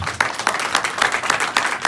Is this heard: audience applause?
yes